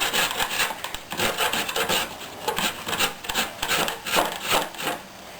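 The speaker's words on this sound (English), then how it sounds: "I want to grate in the direction of the coconut, which runs this way" Fresh coconut flesh scraped on a hand grater in steady, rhythmic rasping strokes, roughly two per second, close up and alone with no voices.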